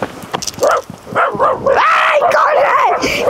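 Dogs barking and yelping along a path in rural Ecuador, a run of sharp, fairly close barks and whines that grows denser and more continuous toward the end, with no talk over it.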